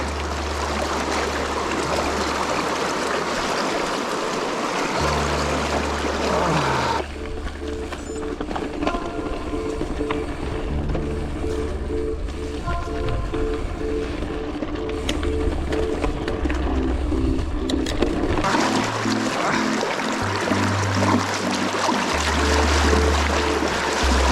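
Fast-flowing mountain stream on the way to Lake Tali Karng, a continuous rushing wash heard close, with mechanical clicking and rattling on top through much of it.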